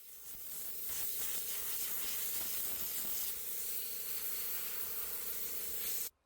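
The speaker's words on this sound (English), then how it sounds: "so Manny blew this out with our air compressor." An air compressor nozzle blows dust out of a secondhand wicker piece, a continuous close airy hiss of compressed air lasting about six seconds with slight surges, then cutting off abruptly at the end.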